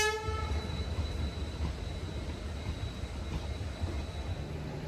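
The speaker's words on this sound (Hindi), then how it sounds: "सामने किसी लोकल ट्रेन का अराइवल हो रहा है।" A local train pulls into a junction railway station, its steady low rumble of wheels and wagons filling the platform, with a faint horn tone early on and no voices.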